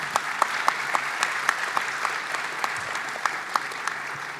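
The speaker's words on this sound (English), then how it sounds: "So, huge round of applause." An audience applauding steadily in a hall at a business event, dense even clapping held at one level throughout, with no voices over it.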